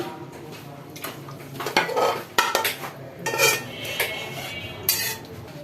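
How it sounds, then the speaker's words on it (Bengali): Snakehead fish curry being served onto a dish with a spoon, metal utensils clinking and scraping against pots and plates in irregular bursts, fairly close and moderately loud with no talking. "তরকারিটা একটি ডিশে বেড়ে নিচ্ছি"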